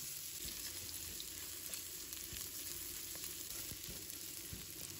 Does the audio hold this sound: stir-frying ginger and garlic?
yes